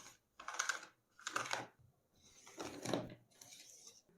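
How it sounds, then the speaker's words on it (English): The edge trimmer on an AGARO A4 portable lamination machine cuts the extra edges off laminated paper in four short, close scraping and clicking strokes separated by brief pauses. "with the help of this edge trimmer, we will cut the extra edges"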